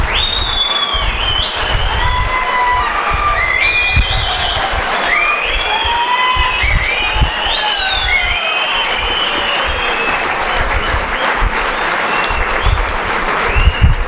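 Attendees at a business training program break into loud, continuous applause, a thick crackle of many hands clapping, with scattered cheers and whistles riding above it throughout.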